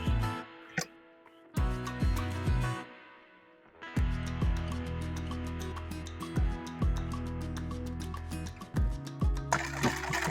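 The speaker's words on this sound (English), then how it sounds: "just stitch my zipper to the top of the bag" A sewing machine stitches a zipper onto a tote bag in repeated runs, a steady rapid mechanical whirr that starts and stops several times with short pauses between bursts, close and clear.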